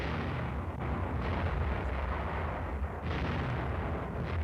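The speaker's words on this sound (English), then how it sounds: "These tanks are firing at tar barrels over half a mile away." Tank guns fire at tar barrels more than half a mile away on a 1962 Glen of Imaal range, heard as dull, fairly distant booming blasts over a steady low rumble, with no talk.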